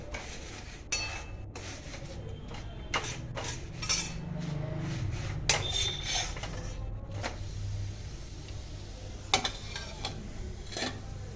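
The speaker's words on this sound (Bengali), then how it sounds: "আমরা তেল ব্রাশ করে নেব।" Oil is brushed onto an aloo paratha in a home kitchen, heard as soft scraping and rubbing strokes mixed with scattered clinks of a utensil against a pan or plate, close and fairly quiet.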